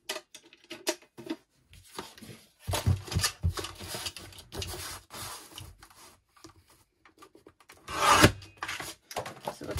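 A small paper guillotine trimming paper for a tag shape, heard as intermittent scraping, rasping strokes and light clicks near the microphone, with a louder slicing burst toward the end.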